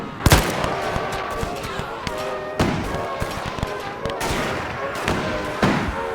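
In a war video game, repeated gunshots and short bursts of automatic fire crack out in irregular clusters over a busy battle din, close and sharp, with no speech.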